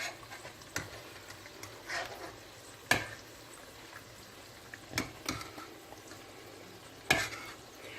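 A spoon stirs couscous seasoned with ras el hanout in a pot, giving a few separate scraping, rustling strokes that sit close and fairly quiet over a soft background hiss.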